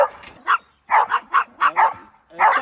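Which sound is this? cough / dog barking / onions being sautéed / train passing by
dog barking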